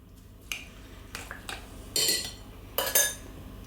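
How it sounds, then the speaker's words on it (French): A spoon knocks and scrapes against a bowl while potato galette mixture with cherry tomatoes and flat parsley is stirred, giving a handful of separate clinks and taps, near and unhurried. "Je mélange à nouveau."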